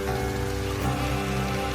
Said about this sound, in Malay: Hujan turun dengan lebatnya hari itu.